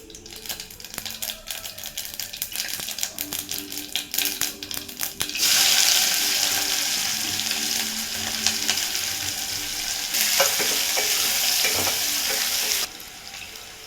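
Onions frying in oil after mustard seeds have spluttered, with a loud hissing sizzle that rises sharply partway through, preceded by a stretch of crackles and rapid spitting pops.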